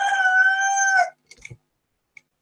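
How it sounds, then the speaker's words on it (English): A rooster gives one loud, close cock-a-doodle-doo lasting about a second, followed by a few faint clicks and near silence. "quite a few rooster recordings"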